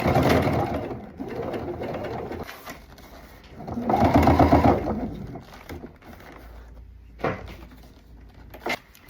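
A sewing machine stitches a leather skirt in short bursts, with a whirring motor and mechanical clatter that rises and falls, followed by a few handling knocks near the end.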